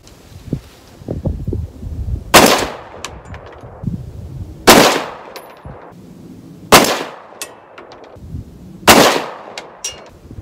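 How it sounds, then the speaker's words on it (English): Four loud rifle gunshots from a rifle fitted with a muzzle brake ring out at roughly two-second intervals, each a sharp blast with a brief decaying echo, with faint handling noises between shots. "Okay, that was 6 shots."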